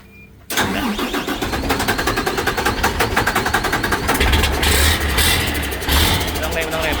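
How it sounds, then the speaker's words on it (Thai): An Isuzu Rocky truck with a swapped S70 engine cranks and fires up after a short quiet moment, then settles into a loud, close, rough idle that carries on to the end. "นี่ก็เดี๋ยวจะเตรียมสตาร์ทเครื่องกันนะ งานก็แน่นๆเนียนๆเลยนี่กำลังจะสตาร์ทแล้ว"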